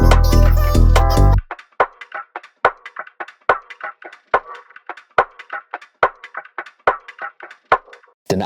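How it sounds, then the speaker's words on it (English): A percussion loop from a garage beat follows the tail of a loud bass note and runs as crisp, dry clicks and taps in a steady, syncopated pattern. "Then we got a perk loop just in the background"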